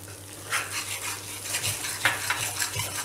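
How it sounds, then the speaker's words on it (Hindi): Spoon stirring roasted gram flour with chopped almonds and cashews in a hot pan for besan laddoo, giving steady scraping and gentle sizzling with repeated light metal taps against the pan, close and continuous, no voices. "अच्छी तरह से उसको मिक्स करना है।"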